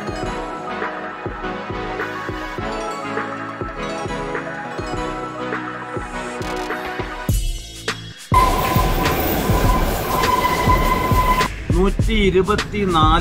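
Music gives way to a loud, steady rumble and clatter of the narrow-gauge Kalka–Shimla heritage hill train climbing slowly along the track, continuing to the end.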